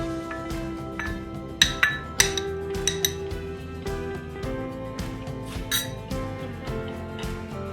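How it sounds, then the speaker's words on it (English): Corn being mixed into cheese in a bowl, giving light clinks and taps of a utensil against the dish, a short cluster of sharper knocks, over a low steady background hum. "We will mix corn into cheese."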